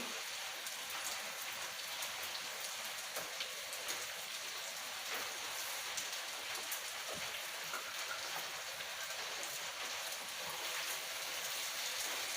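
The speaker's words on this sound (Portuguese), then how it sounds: "agora que começou a chover" Steady rain patters densely on surfaces close by, a constant even hiss of drops that fills the whole scene without pause or voices.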